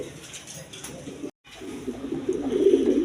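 A pair of Lahori pigeons coos close by, soft repeated low calls with a short gap in the middle, the cooing growing louder toward the end.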